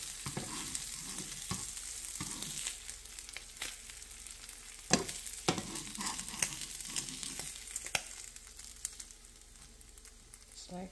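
Bacon fries in a hot pan while the cook prepares a focaccia breakfast sandwich. A steady crackling sizzle fills the clip, broken by sharp pops and stirring clatter, then eases slightly toward the end.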